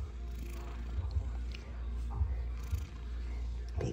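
Soft, low rhythmic purring from a cat nearby, faint and steady with slight pulses.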